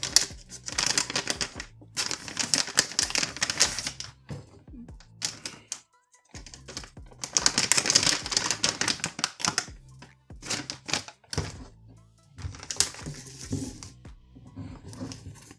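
A two-pack of Mi KN95 protective masks being unboxed, with crinkling plastic, paper rustles and clicks from the packaging and contents in bursts close up, broken by short pauses.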